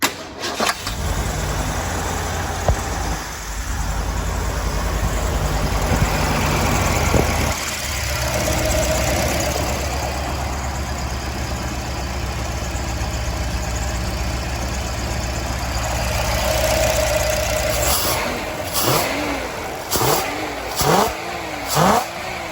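A Lincoln hot rod engine fitted with Holley Sniper 2 EFI cranks, catches and settles into a loud, steady idle close by, then ends with several sharp revving blips.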